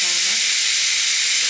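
Pressure cooker releasing a steady, loud hiss of steam in a home kitchen, continuous broadband rush held for the whole moment with no pauses.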